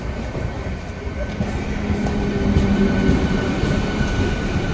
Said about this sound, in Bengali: ট্রেন চলে এসছে।